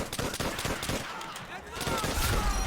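Rapid bursts of gunfire and explosions in Call of Duty: World at War, dense and continuous across the clip, loud throughout with battlefield noise.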